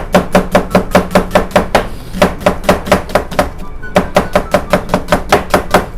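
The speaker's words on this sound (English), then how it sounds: "Okay, so we're just gonna cut it in half." A knife julienning a halved onion on a cutting board, a fast, steady run of sharp chopping strikes with one short pause midway, close and clear with no talk.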